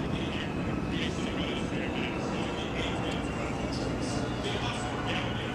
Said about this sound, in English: It's also a remarkably quiet aircraft considering.